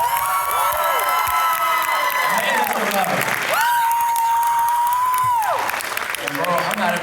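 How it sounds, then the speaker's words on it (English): Audience at a university spring showcase applauds and cheers loudly, with whoops and sustained clapping throughout, and tonal shouts rising above the crowd. "Another round of applause."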